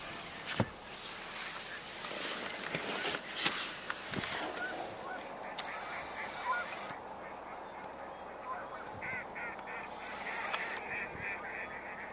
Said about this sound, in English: Hear mallards, and I believe only from what I understand, I think just the females do that.